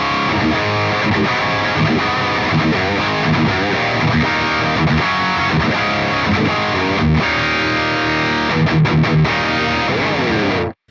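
Heavily distorted electric guitar through a Line 6 Helix EV Panama Red high-gain amp model, treble cranked to 10, plays chords and riffs continuously for about ten seconds, loud and bright, then cuts off abruptly.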